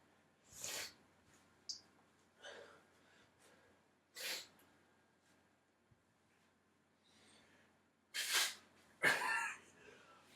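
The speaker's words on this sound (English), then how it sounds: "It was a burp and a crazy loud sneeze." A loud, sharp human sneeze close to the mic, set among quieter breaths, a burp and short snorts, with two forceful bursts near the end of the sequence.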